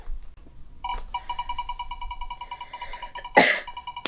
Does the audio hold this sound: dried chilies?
no